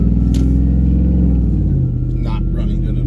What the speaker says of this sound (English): It's revving up.